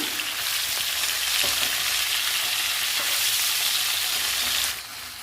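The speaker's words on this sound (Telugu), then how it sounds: "ఈ బెండకాయ ముక్కలు వేయించుకుందాము." Okra pieces frying in hot oil in a pan, a loud continuous close sizzle that holds steady and then drops off abruptly near the end, with no voices.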